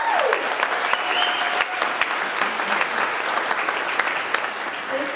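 An audience at a trucking company's monthly celebration applauds for its truck drivers, steady sustained clapping from a room full of people, with no voices on top.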